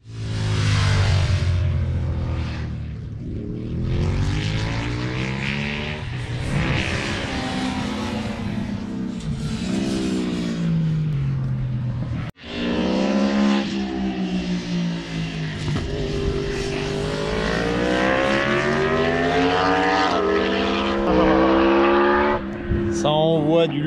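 Racing motorcycles at the Bresse circuit, engines screaming and revving through gear changes with rising and falling pitch, loud and close, a brief dropout midway, while someone talks over the roar.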